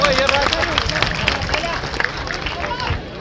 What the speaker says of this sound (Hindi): मौजूद शाहबाज ग्रुप के स्टूडेंट्स, मेंबर्स, इनके लिए एक बार जोरदार तालियां।